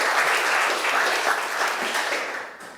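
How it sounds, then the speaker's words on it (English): A large audience at a Battle Creek Community Foundation evening event applauds the foundation's team, dense steady clapping filling the room and tapering slightly toward the end. "I would love you to give them one more round of applause"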